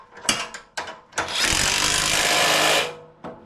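Ridgid R8-6037 cordless impact gun tightening bolts: a few short clicks and bursts, then one sustained loud hammering rattle lasting over a second, close by.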